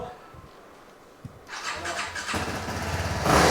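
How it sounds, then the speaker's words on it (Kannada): A motorcycle that arrived in dead condition starts up after a service. Quiet workshop ambience comes first, then the engine catches and settles into a steady running note, swelling louder near the end as it is revved. "ಸರ್ ಇವಾಗ ಸ್ಟಾರ್ಟ್ ಮಾಡ್ತಾ ಇದೀವಿ ಸರ್."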